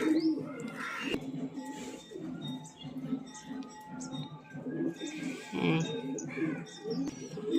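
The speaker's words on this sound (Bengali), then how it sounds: "এটা নর পায়রা" Male pigeons coo softly in low, throaty bursts, with scattered chirps and shuffling around them; a faint voice murmurs in the background.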